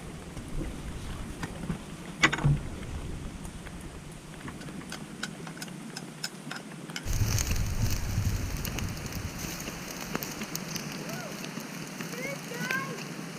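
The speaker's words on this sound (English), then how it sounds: "Gotta love cooking in the rain." Rain patters steadily on a surface nearby at a campsite, a dense crackling hiss that grows heavier partway through, with someone talking at times over it while cooking chicken outdoors.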